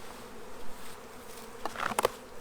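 Honeybees buzz around a freshly unwrapped hive, a steady insect drone with a few louder passes close to the microphone near the end.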